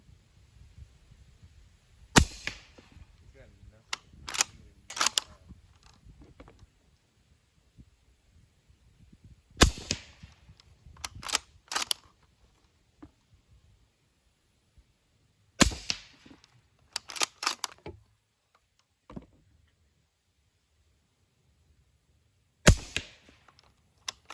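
Several muffled, sharp cracks from a suppressed Q Mini Fix rifle, fired singly and in quick pairs with quiet pauses between, over faint background hum.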